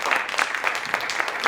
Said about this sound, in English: if we could have another round of applause for these beautiful